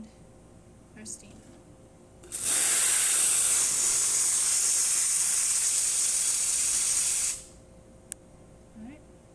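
A Profitec Pro espresso machine's steam wand blasts a loud, steady hiss for about five seconds after a short quiet lead-in, then cuts off abruptly, with faint room sounds and a light click around it.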